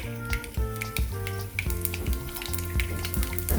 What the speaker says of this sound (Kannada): ಎಣ್ಣೆಗೆ ಐದೈತಿ, ಸಾಸಿವೆ ಮತ್ತು ಜೀರಿಗೆ ಹಾಕೋತೀನಿ ರೀ.